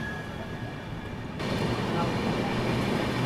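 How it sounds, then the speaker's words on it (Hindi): The Kaifiyat Express, running Azamgarh to Delhi, passes close by with a loud, steady rumble of wheels and carriages that swells partway through and holds without letup. "यहाँ पर अपने से क्रॉस हो गई कैफियत एक्सप्रेस"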